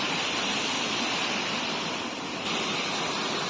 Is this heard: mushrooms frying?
no